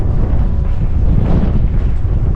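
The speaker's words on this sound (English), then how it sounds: "I'm hoping the wind settles, the sky's clear." Strong wind buffets a hilltop on a coast-to-coast walk, a loud, continuous low roar of gusts battering close by, with no talk.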